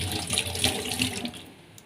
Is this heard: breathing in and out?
no